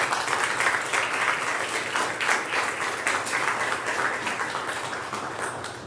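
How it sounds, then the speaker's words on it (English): A large crowd at a college graduation ceremony applauds the graduates, a dense, steady wash of clapping that holds at full strength from start to finish. "let's give them a big round of applause."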